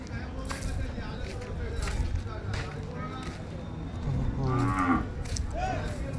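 Cows moo several times over a busy crowd of voices and general chatter at a cattle market, with one louder, nearer low bellow toward the end.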